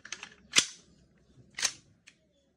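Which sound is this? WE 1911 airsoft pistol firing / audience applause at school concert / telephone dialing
WE 1911 airsoft pistol firing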